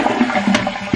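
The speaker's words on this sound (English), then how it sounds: "And we're just gonna brush it and flush it." A household toilet flushes near the mic after a cleaning tablet, with a short rushing gurgle of water and no voices.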